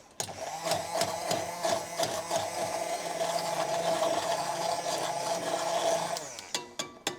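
A blender purees cooked strawberries in sauce: a steady motor whir with rhythmic thumping pulses runs close and fairly loud, then winds down with a few clunks at the end, and nobody speaks.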